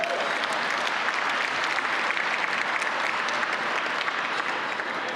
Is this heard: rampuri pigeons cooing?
no